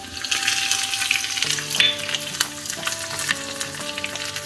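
Crushed garlic, a dried red chili and curry leaves hit hot oil for a dal palak tempering, bursting into a loud, close, crackling sizzle with sharp pops and faint clinks of a utensil against the pan.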